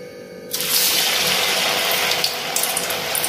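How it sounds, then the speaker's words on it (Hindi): Sabudana (tapioca pearls) dropped into hot peanut oil sets off a sudden loud, steady crackling sizzle that starts abruptly and carries on close up without any voices. "मूंगफली का तेल गरम हो गया है, गरम में ही डालेंगे नहीं तो ये फट जाते हैं।"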